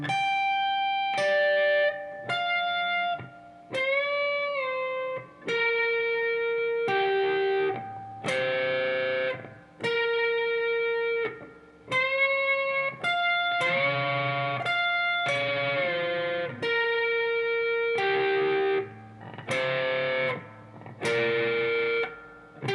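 Distorted electric guitar plays part 5 of a solo at slow speed, a steady run of sustained, bending notes with brief gaps between phrases, loud and alone.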